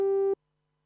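A steady Kurzweil K2700 synthesizer tone holds at one pitch with rich harmonics, then cuts off abruptly after about a third of a second, leaving silence.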